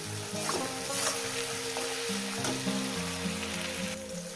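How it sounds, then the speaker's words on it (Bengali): Sliced onion fries in a pan by a riverside cooking spot, a steady dense sizzle running without pause under a faint tonal background hum. "পেঁয়াজটাকে আমি আর দু মিনিট ভেজে নেব"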